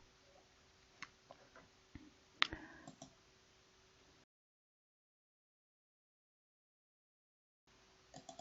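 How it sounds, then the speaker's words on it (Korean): Sparse, faint computer mouse clicks, with Ctrl key presses between double clicks, made during 3D modeling of a lampshade. A few isolated ticks come close together, then the clip goes fully silent before a couple more quiet clicks. "더블 클릭 컨트롤 키 누르고 더블 클릭"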